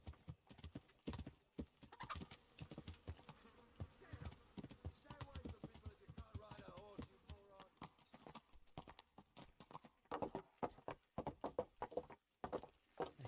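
Horse hooves clip-clop in a steady, rhythmic trot while riding in a medieval video game, close and continuous, with a brief whinny partway through and game voices talking over the hoofbeats.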